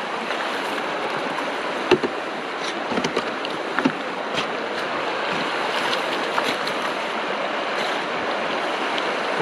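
Gold fines being panned in a New Zealand creek, with steady rushing stream water and occasional splashes and sloshes from the pan, close by.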